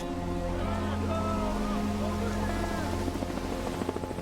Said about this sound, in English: The Coast Guard helicopter battles for an hour trying to rescue them before accepting defeat.